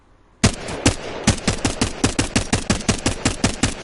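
Rapid automatic gunfire from a weapon in the video game Apex Legends, a loud, steady burst of about twenty evenly spaced shots following a brief quiet moment, with no talking.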